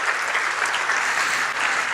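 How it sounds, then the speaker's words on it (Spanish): Church congregation applauding loudly during a Spanish-language sermon, a dense, sustained burst of clapping filling the room at an even, strong level from start to finish. "Aplaude fuerte al Señor."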